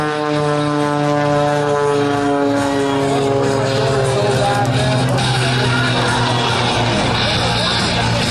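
A propeller aerobatic airplane flying a hammerhead turnaround at a New York air show, its engine a loud, continuous droning roar with a shifting pitch, heard close and steady.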